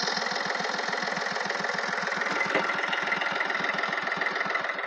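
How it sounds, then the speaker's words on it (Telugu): A 2013 Chevrolet Beat diesel car idles close by with a steady, even rhythm of rapid diesel knocks over a constant mechanical hum. "ఇంజన్ మాత్రం చాలా సైలెంట్ ఉంది."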